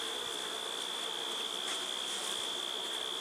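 Honeybees buzzing in an open hive box while someone looks for the queen, a steady close drone that fills the whole stretch with no talk.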